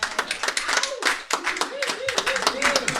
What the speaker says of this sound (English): Let's give a round of applause to Elizabeth Hangen.